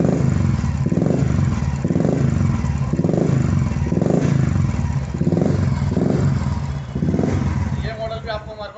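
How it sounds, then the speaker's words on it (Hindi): A Royal Enfield Bullet with a Cobra model aftermarket silencer exhaust thumps close by, its throttle blipped in regular revs about once a second before the engine note settles and fades. "उसके बाद ये सेंसर आता है जी कोबरा मॉडल,"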